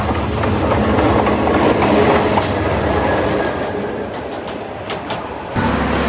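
Railway rumble from a train at a station in Bangladesh on the way to Mymensingh, with a steady close, loud low drone and a faint rhythmic clatter. About a second before the end it settles into an even idling hum.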